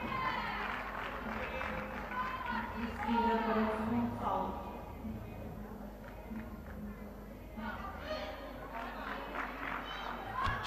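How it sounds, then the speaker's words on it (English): Noisy home crowd of fans at a women's vault gymnastics competition in Guimarães, Portugal, keeping up a steady roar of cheering that runs beneath a commentator speaking throughout. "There's some very noisy fans."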